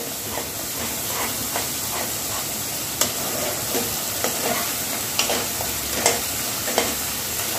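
Paneer, cauliflower and potato curry sizzling in oil in a pan, a steady close hiss with occasional light stirring clinks and spatters, no talking.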